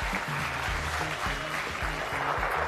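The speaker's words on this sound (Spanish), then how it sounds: "les quiero pedir un fuertísimo aplauso" A television studio audience claps steadily, a dense patter of applause, fairly faint and continuous with no voices above it.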